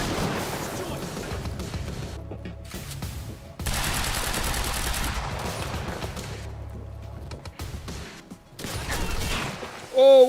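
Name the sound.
gunfire from the video game Quantum Break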